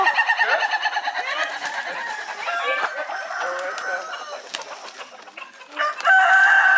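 Roosters at a village cockfight in Bali crow and cluck amid a busy crowd, with nearby bird calls and murmuring voices, growing louder near the end.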